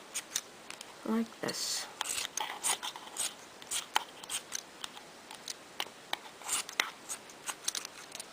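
Scissors snip around a circular lid through a cluster of yarn during a loopy yarn flower craft, giving a steady run of close, crisp cuts with brief spoken words over them.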